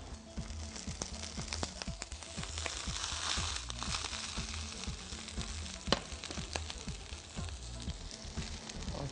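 Kebabs fry in a pan with a splash of vinegar, giving a steady, close crackling sizzle throughout with occasional brief pops and no talk.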